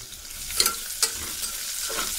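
Onion with a bay leaf and cumin sizzling and crackling in hot oil, with a couple of sharp stirring scrapes, close and continuous.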